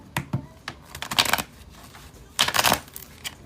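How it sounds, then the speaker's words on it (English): A deck of playing cards being shuffled, two quick riffling bursts of crisp paper flutter with a few soft taps between them, close and fairly loud. "let me shuffle again"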